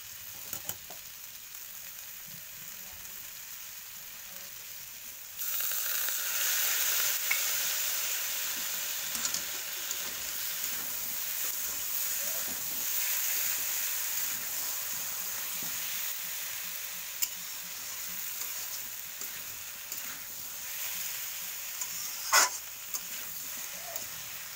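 Spices frying and being stirred in a pan for khichuri made with Gobindobhog rice, golden moong dal, cashews, raisins and ghee; a steady close sizzle that jumps louder partway through, with occasional scrapes of stirring.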